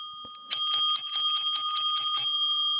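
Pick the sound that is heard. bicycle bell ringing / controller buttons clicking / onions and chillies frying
bicycle bell ringing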